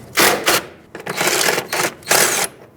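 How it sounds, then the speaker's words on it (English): Socket wrench removing a 12mm bolt while replacing a rear brake hose on a 2006-2011 Honda Civic, heard as close, rapid ratcheting clicks in four short bursts separated by brief pauses, with no talking. "Use a 12mm socket and remove that bolt."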